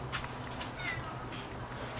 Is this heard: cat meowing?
yes